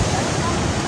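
Heavy sea waves churn during heavy rain, giving a loud, unbroken roar of surf that is mixed with wind buffeting the microphone.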